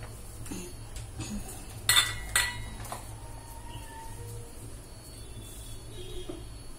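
A kadai is set onto a lit stove for frying mirchi bajji, with a few metallic clanks and scrapes of cookware, two louder knocks in the middle, over a low background hum.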